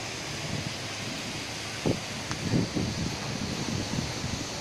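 Steady broadband wind roars throughout in Hua Hin, Thailand, with a few louder gusts and brief rustling bursts in the middle.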